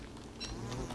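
Bees buzz around a patch of grass in the game Don't Starve: Reign of Giants, a faint, steady droning hum with slight swells, low in the mix and without talk.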